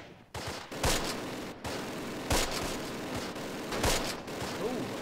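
Gunfire in the Close Combat World War II strategy game at Pontaubault, with scattered bursts and single shots cracking at irregular intervals over a continuous battle rumble.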